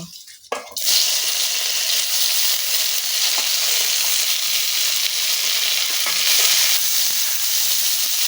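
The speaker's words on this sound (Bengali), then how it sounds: "এখন আমি এই আলু আর কবিটাকে আমি এখন ভেজে নেব" Potato and cauliflower pieces drop into hot mustard oil in a wok with a brief splash, then a loud, steady, close sizzle of frying that holds throughout.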